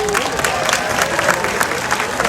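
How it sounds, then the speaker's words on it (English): Audience applauds and cheers at a zoo sea lion and harbor seal show, dense, steady clapping from a crowd throughout, fairly loud and close. "let's give everyone a round of applause and get them warmed up"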